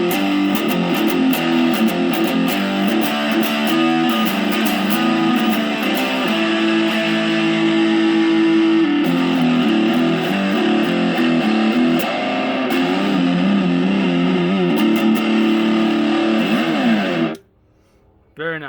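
Electric guitar played through a Boss OD-2 Turbo Overdrive pedal in turbo mode, thick sustained chords and riffs with a gritty, almost distorted tone, ending abruptly before a brief final strum.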